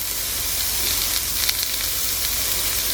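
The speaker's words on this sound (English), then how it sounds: "while I'm cooking and roasting these poblanos and corn" Poblano peppers and corn roast in a hot pan, giving off a loud, steady, unbroken sizzle and hiss close by, with no talking.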